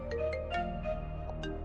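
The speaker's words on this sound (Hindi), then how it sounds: "उठा के देखती हूँ किसका फोन है।" An electronic mobile phone ringtone for an incoming call from an unknown number plays as a repeating melodic tone pattern, steady and fairly loud, with a background music bed underneath and no talking.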